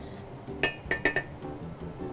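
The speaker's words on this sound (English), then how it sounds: "Keep on stirring." A utensil stirring cream in a pot, giving a few sharp metallic clinks and scrapes against the pot over a low steady background.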